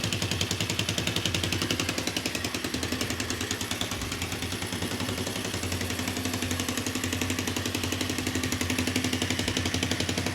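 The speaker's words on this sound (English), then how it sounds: "Running perfect. Engine is nice and quiet." A 40-year-old Honda four-wheeler engine runs at a fast, even idle, a dense rapid chatter of firing pulses that stays steady and close throughout with no one talking.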